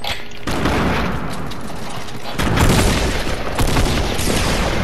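Rapid gunfire bursts in a 20-versus-20 shooter game ring out loud and dense, with a heavier barrage taking over midway, and no talk.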